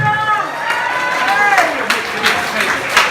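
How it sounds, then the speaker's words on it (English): Audience applause and cheering for the winner of the Get Vocal at the Social 2015 singing competition final, a steady dense wash of clapping from a crowd with voices mixed in throughout. "please give a round of applause to the Get Vocal at the Social 2015 winner, Laura Johnson"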